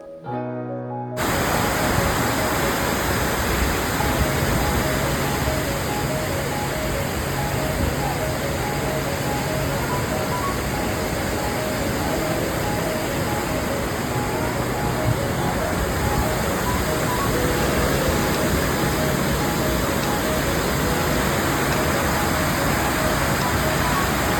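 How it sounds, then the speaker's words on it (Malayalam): Water forced through the open first shutter of a dam about eleven kilometres from Kothamangalam, roaring as a steady, loud, broadband rush that holds unbroken from start to finish. "ഫസ്റ്റ് ഷട്ടർ തന്നെ ഓപ്പൺ ചെയ്തിട്ടുണ്ടായി നല്ല ഫോഴ്സിൽ വെള്ളം പോകണ്ടായി"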